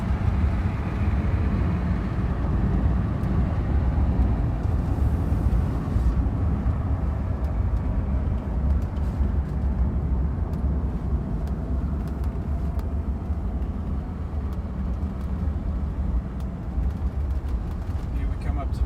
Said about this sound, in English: The only thing you hear is a little bit of wind noise.